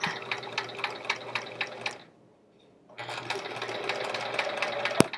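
A sewing machine stitches quilt pieces in rapid, even bursts of mechanical clatter, pausing briefly for about a second before resuming, with a sharp click near the end, close and moderately loud.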